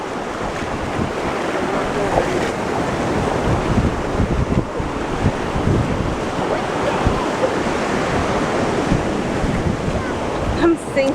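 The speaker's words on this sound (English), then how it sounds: "Waves are huge." Big ocean waves crash and wash ashore at a Kauai beach, a continuous roaring surf up close mixed with gusty wind buffeting the microphone.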